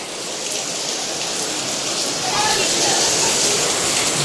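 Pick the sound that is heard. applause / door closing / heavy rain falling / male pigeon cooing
heavy rain falling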